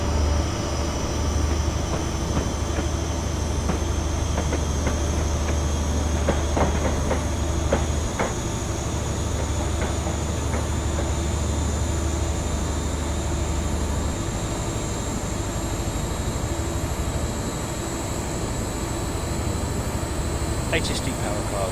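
Class 43 HST power car running on the Riviera Line in Train Simulator 2015, a continuous loud diesel drone with rail clatter and a faint high whine throughout, with someone speaking over it.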